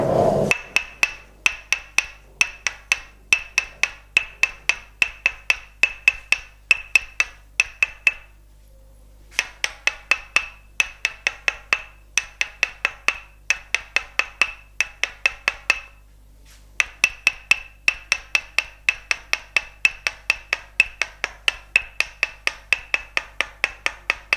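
A wooden tok sen mallet taps rhythmically on a wooden tool pressed against back and calf muscles during a northern Thai massage, sharp close clacks in steady rapid runs broken by two short pauses, dry and clicky with faint room hum.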